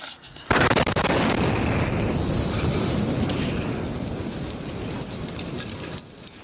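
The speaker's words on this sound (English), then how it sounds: "A Metro police officer's body camera capturing the moment a bomb exploded in downtown Nashville." A bomb blast in downtown Nashville recorded on a police officer's body camera: a sudden loud boom that hits hard and then rolls on as a long, dense roar that slowly fades over several seconds, with no voices.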